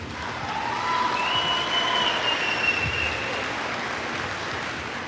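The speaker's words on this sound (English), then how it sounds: "Can you please give her another round of applause?" An audience applauds at a junior high school 8th grade promotion ceremony: steady, dense clapping that carries for several seconds, heard from a distance in a large room.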